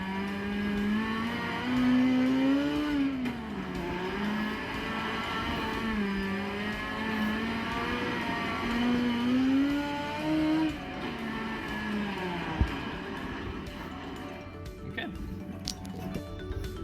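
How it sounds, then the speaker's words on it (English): A wing sprint car engine in the iRacing simulator game, driven around Lernerville Speedway, drones and revs in repeated rising and falling sweeps, loud and continuous, easing off toward the end. "we are whipping around this wing sprint car at actually my hometown track, Lernerville Speedway"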